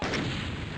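An exploding barrel in the classic shooter DOOM, a short dense booming blast that fills the whole brief moment at strong, even loudness with no voices.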